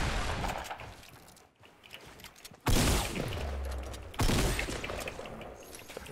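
Gunfire in a Fortnite Battle Royale match, sharp bursts with loud reports near 2.7 and 4.2 seconds over ongoing game noise and background effects, with no talk.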